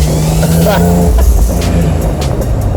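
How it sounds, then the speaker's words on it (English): A 2012 Porsche 911 Carrera 4 GTS Cabriolet's raspy performance exhaust drones steadily at close range, loud and continuous throughout. "The unmistakable raspy sound coming from the performance exhaust in the back."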